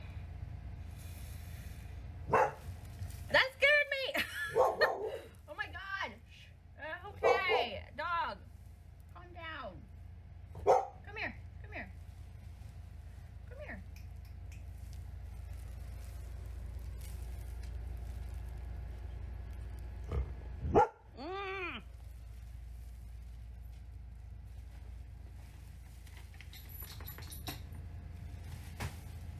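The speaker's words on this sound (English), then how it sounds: "That's the dog I'm pet sitting. She hears someone outside." A pet-sat dog barks at someone outside, sharp bursts clustered early and again briefly later, close by and mixed with a person's voice and laughter over a low background rumble.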